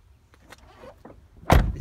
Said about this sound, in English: electric windows.